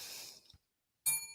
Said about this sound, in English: Oh, I didn't hit the bell hard enough.